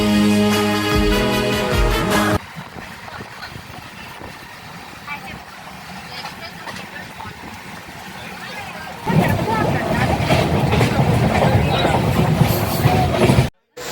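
An Ernakulam Express train arrives at a station on a Vizag to Tirupati journey, with a low engine rumble and rolling noise. A tonal music-like passage opens the clip, and a louder rushing stretch builds near the end.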